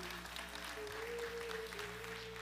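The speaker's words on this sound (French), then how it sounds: "donnez-lui une bonne main d'applaudissement" Church congregation applauding during a French-language service, a steady wash of clapping throughout with a sustained musical tone, likely organ or keyboard, underneath.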